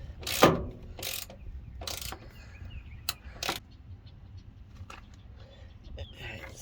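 A 7/16 socket ratchet working a nut on a Chevrolet courtesy door switch, several short clicking bursts spaced apart, close and distinct over low background noise.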